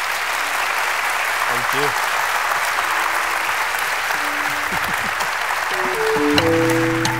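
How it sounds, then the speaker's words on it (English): Sustained, dense audience applause filling the room after a Q&A panel, loud and steady throughout, with someone speaking briefly over it near the end. "Let's give a big round of applause to."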